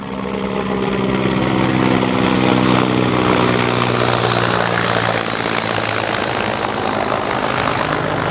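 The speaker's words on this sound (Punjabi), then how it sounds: "ਇੱਕ ਹੋਰ ਸਾਹਮਣੇ ਹੈਲੀਕਾਪਟਰ ਆ ਰਿਹਾ" Rescue helicopter flying low over a flooded district, its rotor and engine roar loud and continuous throughout, steady and close with a throbbing drone and wind noise, no voices.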